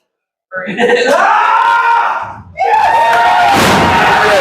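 Wrestling crowd at a live indoor event roaring and yelling in support of the wrestler Bearclaw, two loud sustained surges of shouting and cheering with a brief dip between them.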